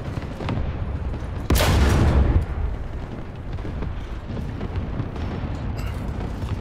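A modern Russian light tank fires its cannon in War Thunder: one loud, heavy blast with a rolling rumble that fades within a second, set against a constant engine drone and scattered distant thuds.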